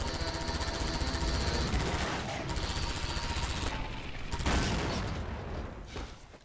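Rapid, unbroken automatic gun fire in the video game Half-Life 2 Overcharged, a loud, rattling stream of shots with a brief dip and a heavier burst partway through.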